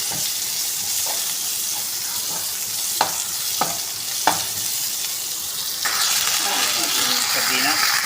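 Garlic and onion frying in cooking oil for Filipino-style sautéed sardines with pechay, a steady broadband sizzle with a few sharp stirring clicks, growing louder and denser toward the end.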